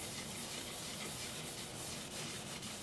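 Shellac-based Zinsser Seal Coat sanding sealer being rubbed onto turned weeping birch, a steady close, soft scuffing friction that continues evenly without pause.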